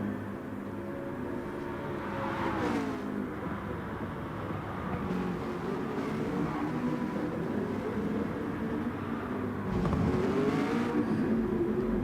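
A 2008 NISMO GT-R Super GT race car engine in GT Sport drones and revs on the Sardegna track, pitch rising and falling through gear changes, with a louder surge of acceleration toward the end; no talking.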